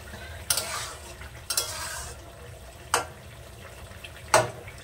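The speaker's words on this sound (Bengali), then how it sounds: "এবার সুন্দর করে তরকারিটা ফুটিয়ে নেব।" Puti fish and radish curry simmering in a pot, broken by four sharp scraping stirs of a spoon spaced a second or so apart over a low steady bubbling hiss.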